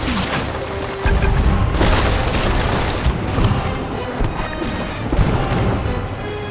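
Ship cannons boom in a loud naval battle in the Sea of Thieves video game, with heavy repeated blasts and crashes over a dense, continuous roar of battle noise.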